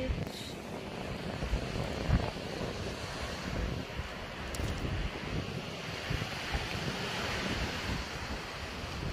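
Surf rolls continuously onto a cold, windy beach, with steady wave wash and heavy wind buffeting the microphone throughout, no voices.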